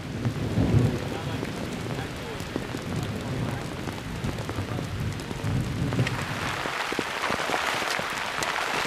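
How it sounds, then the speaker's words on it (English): Heavy rain pours steadily with a dense hiss and spatter, growing brighter and harsher toward the end, with low rumbling underneath. "I really apologize about the rain,"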